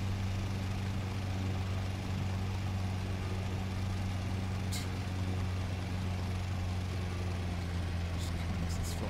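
A propeller aircraft engine in the X-Plane 11 flight simulator game holds a steady, low droning hum as the throttle is eased back slightly, fairly faint and unbroken throughout.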